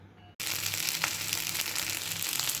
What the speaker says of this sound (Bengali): মেরা পিঠা ডিম কাঁচামরিচ পেঁয়াজ দিয়ে ভেজে নিলাম।